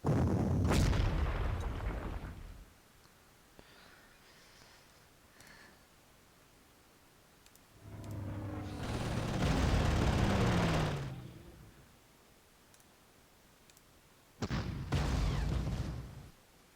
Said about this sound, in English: Start bombarding that.